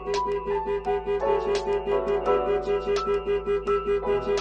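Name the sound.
Starline Solaris vehicle alarm going off on Ford Transit Custom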